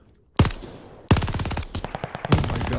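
A turret-like automatic gun fires in a Call of Duty game, with three sharp, loud bursts, the longer middle one a rapid rattle of shots, each trailing into echo.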